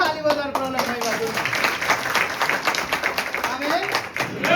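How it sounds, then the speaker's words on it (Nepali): A church congregation claps loudly in praise of the Lord: steady, rapid handclaps sustained throughout, heard under a raised voice and shouting from the gathering. "जोरदार ताली बजाएर प्रभुलाई महिमा दिउँ।"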